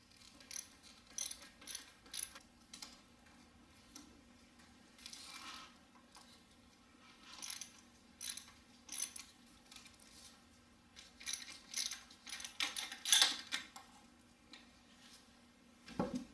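A socket wrench ratchets E6 Torx bolts off the valve cover of a 2007 Toyota Highlander Hybrid engine, with quick bursts of clicking pawl in repeated short runs separated by pauses, close and fairly quiet.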